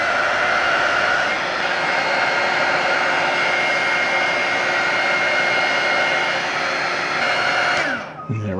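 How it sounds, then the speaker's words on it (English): A heat gun or hair-dryer-style heating tool warms the barrel of a 1936 Waterman pen, giving a steady loud blowing whoosh that runs unbroken for about eight seconds before cutting off. "might have to heat that barrel up a little bit"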